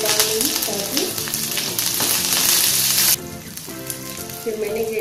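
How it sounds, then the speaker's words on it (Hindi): Small onion pieces and curry leaves frying in a pan of hot oil with green chillies, a steady close sizzle running throughout, briefly dropping lower near the middle before picking back up. "एक छोटा प्याज, 2-4 पीस करके मैंने डाल दिया, इसे थोड़ा पकने दो।"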